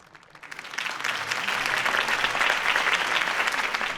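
A crowd bursts into applause in Batman: The Telltale Series, starting faint and swelling within half a second into loud, sustained clapping that carries on steadily to the end.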